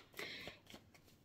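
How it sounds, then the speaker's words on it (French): Oracle cards of the Hildegarde deck are shuffled for a pyramid reading, a quiet, close riffle of cards followed by a few softer flicks, with no speech. "J'utilise l'oracle d'Hildegarde et je vais effectuer un tirage en pyramide."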